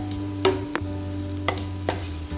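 Sautéed onions being stirred in a pan for a tomato gravy curry, a few distinct spoon scrapes over a soft sizzle and a steady low hum, close and clear with no voices.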